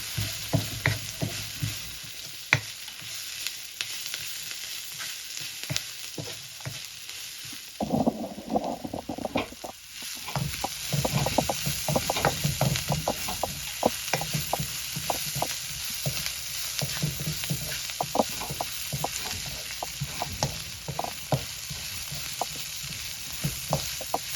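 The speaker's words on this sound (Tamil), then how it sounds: "இப்போ நான் கொஞ்சம் உப்புத்தூள் போடுவோம் தூள் போட்டு வதக்க" Onions fry in a pan with salt powder for a squid curry, giving a steady hiss of sizzling oil; from about eight seconds, repeated scraping and stirring knocks join in.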